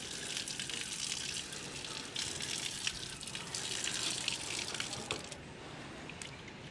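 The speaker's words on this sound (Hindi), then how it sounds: "हमने चारपाई को धो लिया है" Water is poured and splashed over a charpai cot being washed outdoors, a steady rushing, trickling flow with spattering droplets, fairly quiet and continuous with slight surges near the end.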